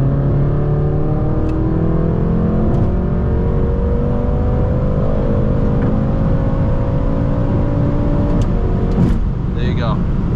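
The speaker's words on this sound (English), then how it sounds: "I'm gonna max her out, drop a gear and disappear" An 800-horsepower stage 2 tuned BMW M6 accelerates hard at full throttle, its engine note climbing steadily through a gear as a loud, sustained roar heard from inside the car, with someone talking over it.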